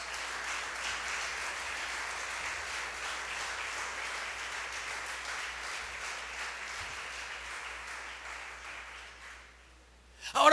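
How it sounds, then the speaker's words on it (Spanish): A church congregation applauds during a sermon, a steady broadband wash of many hands clapping that holds evenly for about nine seconds, then fades out as a brief louder burst closes the clip. "¿Alguien puede darle un aplauso a nuestro Dios?"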